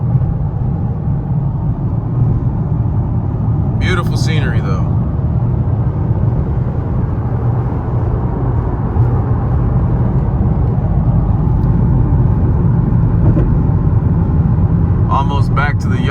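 Downtown Portland city traffic heard from inside a vehicle, a constant low engine and road rumble with a couple of brief higher passing noises, while a person talks briefly over it.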